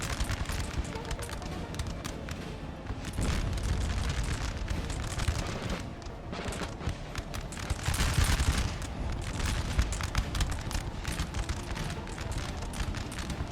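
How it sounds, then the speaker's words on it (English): Musket volleys from skirmishers in Napoleon Total War crackle in ragged, overlapping bursts, with heavier booms swelling in the middle of a continuous battle din. "You get those skirmishers firing a bit."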